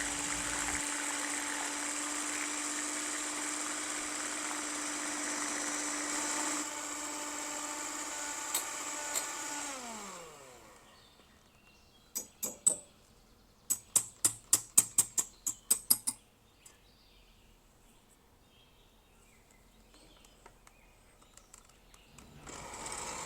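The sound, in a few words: electric mixer whisking egg whites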